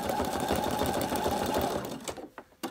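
A sewing machine stitches free-machine embroidery on a campervan appliqué, running in a steady, fast, close whir that stops near the end, leaving a few short clicks and handling sounds.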